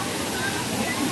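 Tanawan Falls waterfall: a loud, continuous rush of falling water, a brief steady roar with faint voices mixed underneath.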